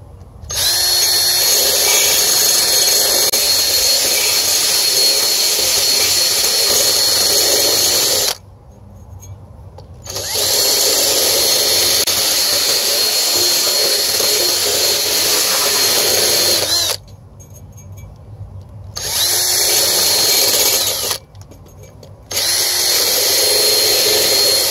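A power drill whines loudly in long bursts while cutting black pipe, stopping briefly three times before spinning up again, close by and without talk.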